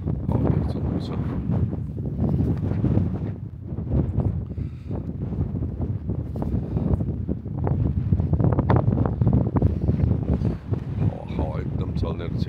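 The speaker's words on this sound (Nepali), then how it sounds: "हावा एकदम चल्ने रहेछ यहाँ।" Strong cold wind sweeps across a hotel in the Mongolian grassland, roaring steadily and buffeting the microphone throughout while someone talks over it.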